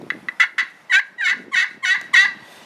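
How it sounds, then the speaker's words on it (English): A wild turkey gobbles in a fast, rattling burst of repeated throaty notes, fairly close and loud, then falls quiet. "he gobbled again"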